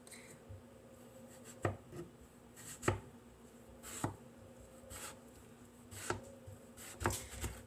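A knife chops through the ends of a very large zucchini on a cutting board, a handful of sharp, separate thunks spaced about a second apart over a faint background hum.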